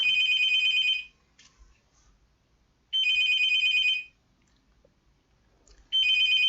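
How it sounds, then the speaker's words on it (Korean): Telephone ringing in a room during a math lesson: three loud electronic trilling bursts about a second long, separated by roughly two seconds of near silence. "전화가 왔으니까 잠깐 전화를 받고 해봅시다"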